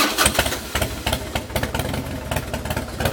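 A 2003 Harley-Davidson Super Glide V-twin settles into an uneven, lumpy idle right after starting, its loping pulses close and steady with no talking.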